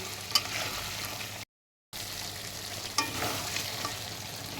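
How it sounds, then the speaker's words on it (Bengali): Goat head meat sautéing with onions and meat spices for bhuna, a steady close sizzle with light stirring taps, broken by a brief gap of silence, no voices. "এই যে আমি রান্না করছি খাসির মাথার ভুনা"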